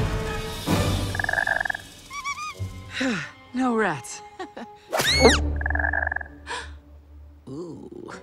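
A frog or toad croaks in the animated fairy film Tinker Bell and the Lost Treasure, deep groaning croaks mixed with other cartoon sound effects and tones while characters speak.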